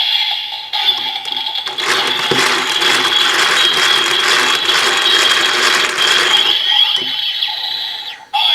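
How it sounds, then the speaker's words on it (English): A toy Build Driver crank is turned by hand, producing a loud, close, continuous ratcheting whir with clicking gear noise for several seconds, then stopping with a few final clicks. "Then set in the driver and turn the crank."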